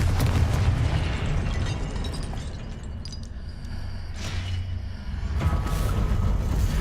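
A Confringo fire spell detonating in the video game Hogwarts Legacy, a loud, rumbling booming blast with crackling bursts over dense low game noise, swelling again near the end.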